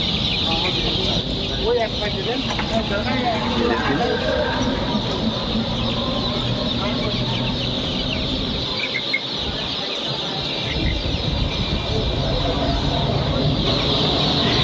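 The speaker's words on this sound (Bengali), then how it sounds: "এই সেই ডিমের রানী ফার্মি মুরগির বাচ্চা, 1 মাসের উপরে বয়স আছে এদের বর্তমানে" Fayoumi chicken chicks over a month old on a poultry farm cluck and cheep continuously and fairly loud, mixed with a dense background of other birds and farm noise.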